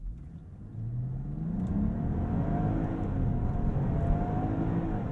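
A 2021 Land Rover Discovery R-Dynamic S in Comfort mode accelerates with a steady, rising engine drone. The tone climbs gradually at moderate loudness with no one talking.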